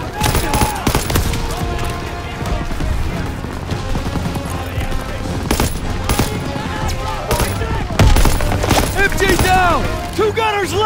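Call of Duty WW2 gameplay with dense machine gun fire and rapid gunshots rattling continuously and loudly, with overlapping bursts and impacts throughout.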